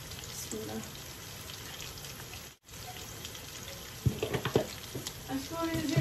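Cooking oil poured into a pan in a home kitchen gives a faint, steady liquid hiss and trickle. A few louder clinks and splashes follow near the end.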